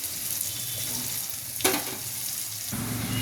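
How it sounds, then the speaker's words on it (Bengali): Bitter gourd frying in a pan, a dense steady sizzle close by with a brief louder stir or clatter midway, no talk. "এই যে এখানে উচ্ছে ভাজা করছি"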